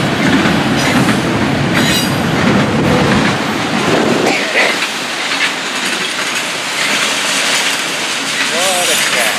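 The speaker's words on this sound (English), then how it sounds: "What a catch. A great looking train." A Florida East Coast Railway freight train with automobile rack cars rumbles past close by, loud and continuous, with clattering wheels and a few high metallic squeals toward the end.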